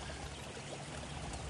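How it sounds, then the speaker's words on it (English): Water pouring steadily through an irrigation ditch in farm fields, a continuous faint rushing stream with no other sounds. "The sounds of these irrigation ditches getting filled"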